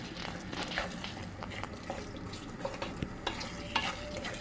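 Butter mushroom curry sautéed and stirred in a pan: a steady close sizzle with repeated spoon scrapes and small clicks against the metal, no voices.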